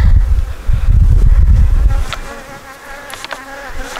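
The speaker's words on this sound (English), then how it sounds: "The bees are back down there now." Bees buzz close by, a loud low drone at first that thins to lighter, scattered buzzing from several insects moving around.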